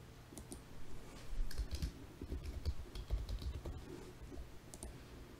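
Keys clatter on a computer keyboard as a PostgreSQL query is typed, quiet irregular clicks in short bursts close to the microphone, with no talking.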